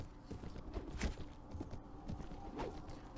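Galloping horses in the Mount & Blade game Prophesy of Pendor: steady, muffled hoofbeat clatter at moderate level throughout, with no speech.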